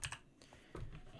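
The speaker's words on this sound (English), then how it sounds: "I can type my actual password and I can put another one." A password is typed on a computer keyboard as a few quick, faint key clicks in two small clusters, close by and quiet.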